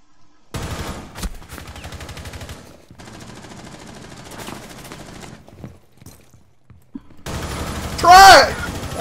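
Suppressed Spear rifle gunfire in Rainbow Six Siege comes in dense, muffled bursts with short pauses between them, broken up by other game sounds, and a louder, brighter burst comes near the end.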